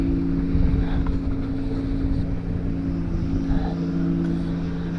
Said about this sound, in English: they're cutting the grass at the moment.